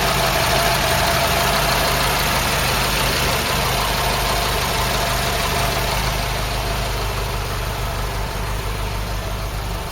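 A Ford Cortina MK3 GXL engine with a ceramic exhaust manifold idles steadily and fairly loud throughout, a continuous low rumble with a faint ticking texture and no voices; slight exhaust leak at a joint.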